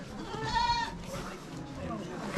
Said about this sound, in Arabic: معزة